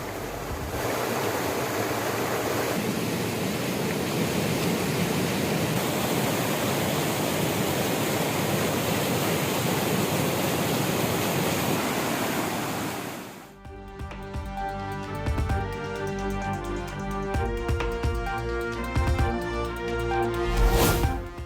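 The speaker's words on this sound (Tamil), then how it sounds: "கலைங்கல்லில் இருந்து சுமார் 10 அடி உயரத்திற்கு அருவி போல் ஆர்ப்பரித்து வெளியேறும் மழைநீர்." Rainwater overflowing a lake weir and plunging about ten feet like a waterfall, a loud, continuous roaring rush that holds steady for about thirteen seconds before cutting abruptly to other sound.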